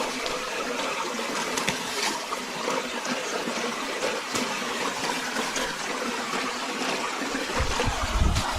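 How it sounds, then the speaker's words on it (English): Creek water flowing steadily on a camping walk, a continuous broadband rush and gurgle at moderate level throughout, with no voices. "the sound of flowing water"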